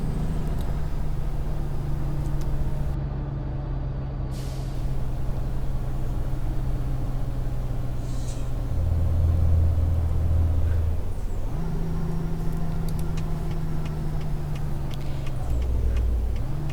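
Truck engine in American Truck Simulator drones steadily throughout, a low continuous rumble whose pitch drops and then rises as gears shift, with a brief hiss partway through and no voices.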